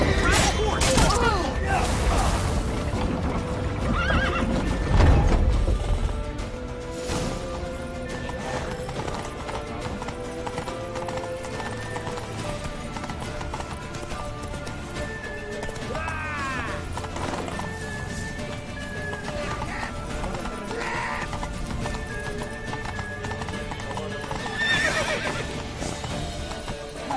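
A horse gallops and neighs in The Witcher 3: Wild Hunt, with steady clip-clop hoofbeats and whinnies amid busy game sound and music, while voices shout over it.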